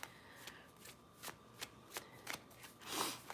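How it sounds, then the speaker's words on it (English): Oracle cards are shuffled by hand in a quiet room, giving a string of crisp riffling flicks at an uneven rhythm, with a longer, fuller riffle near the end. "Let's pull some oracle cards for clarity."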